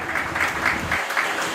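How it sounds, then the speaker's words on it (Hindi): An audience in an auditorium hall claps at a birthday celebration, a full, sustained burst of applause from many people that stays fairly loud and continuous, thinning slightly toward the end. "जोरदार ताली हो जाए"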